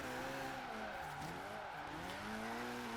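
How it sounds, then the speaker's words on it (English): A video game racing car engine, a Talbot Sunbeam Lotus drift build, drones steadily, its pitch sliding up and down with shifts and acceleration, with faint tire noise; no one speaks. "the car sound is awful"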